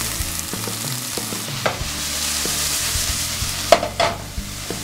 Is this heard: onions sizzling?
yes